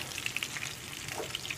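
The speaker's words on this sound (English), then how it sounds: "You see they're boiling?" Vegetables cooking in a pot on a home stove, giving a steady, close bubbling and sizzling hiss with small crackles, heard alone without talk.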